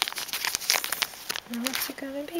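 Scissors snip open the foil wrapper of a Pokémon card pack, giving close, crisp crinkling and rustling while a person speaks over it.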